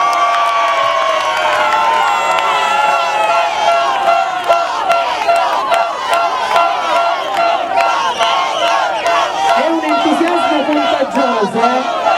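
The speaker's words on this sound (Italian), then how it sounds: "Un entusiasmo da tifoseria" Carnival crowd at a float-prize ceremony in Torregrotta roaring and whooping like sports fans, dense continuous shouting and cheering close by, with voices calling out throughout.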